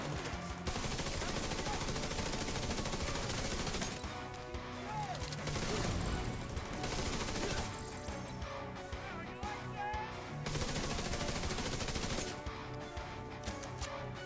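Gunfire in The Division 2 during a Lincoln Memorial mission with a turret, dense and continuous shots mixed with crashes and game effects, loud throughout with brief lulls.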